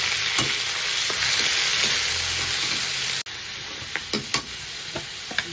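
Shrimp frying in a pan for chop suey, a loud continuous sizzle with clinks and scrapes of stirring, one brief break midway, then the sizzling resumes alone with no talk.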